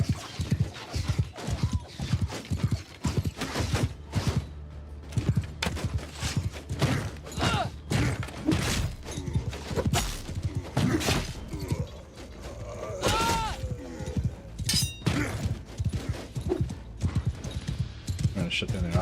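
Horses galloping across a fantasy battle in the Old Realms strategy game, rapid clip-clop hoofbeats pounding steadily in the foreground, mixed with battle noise, thuds and shouted voices over the top.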